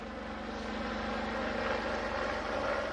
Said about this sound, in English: A fleet of military helicopters approaches in the distance.